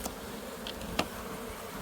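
Honeybees in a small five-frame nucleus colony box, a weaker colony just calmed with smoke, giving a faint, steady, low droning hum with no voices.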